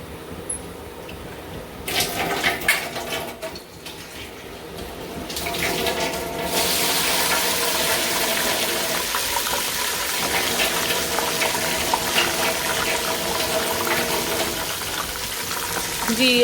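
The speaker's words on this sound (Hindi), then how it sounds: "इसका कलर निकालने के लिए मैं इसके अंदर थोड़ा सा पानी डालूंगी" Water splashes into a hot pan of frying onions with a sudden sizzling hiss, then settles into a steady bubbling fizz that continues without talk.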